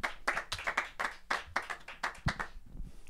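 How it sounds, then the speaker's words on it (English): Live audience at a jazz duo/trio performance breaks into close, lively hand clapping that rises and falls in several bursts before thinning out. "Huge round of applause, my folks."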